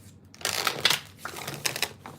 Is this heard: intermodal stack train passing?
no